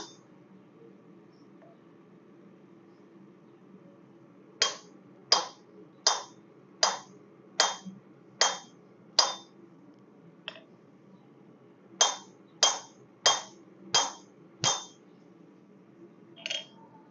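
Hammer blows forging railroad spikes, sharp ringing metallic strikes in two quick rhythmic bursts of about six and five hits, close and clear against a quiet background.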